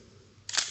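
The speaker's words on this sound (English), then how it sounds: "advance the film again" Film advance lever being wound on a Nikon FA 35mm SLR film camera: one short, close mechanical ratcheting wind that rises and fades within a fraction of a second, heard alone over quiet room tone.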